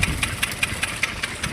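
Thresher reel running off its engine, giving a steady mechanical drone marked by evenly spaced sharp beats about five times a second, close and fairly loud.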